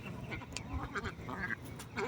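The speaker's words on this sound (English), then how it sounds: "So right now I'm just letting my ducks wander around." Backyard ducks wandering loose outside their coop give a few scattered, soft quacks at moderate distance over faint background noise.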